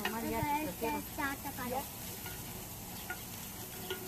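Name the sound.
cooking sounds, stirring and frying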